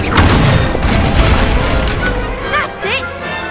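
A magical fire spell bursts in a wizard video game, a loud booming whoosh with crackling impact, followed by rising whistly effect tones, while a voice speaks over the game sounds.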